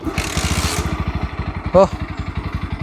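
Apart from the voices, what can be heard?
Bajaj Pulsar NS 160 motorcycle kick-started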